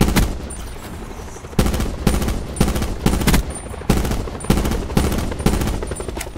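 Rapid bursts of automatic gunfire from Call of Duty Black Ops 4 gameplay, loud and close, arriving in repeated volleys of roughly half a second to a second, with almost no pauses between them.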